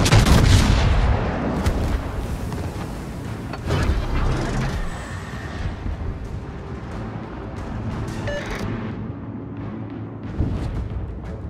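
Heavy naval guns of the Montana battleship in World of Warships boom out in a few deep, loud blasts, then rumble and fade into lower background battle noise.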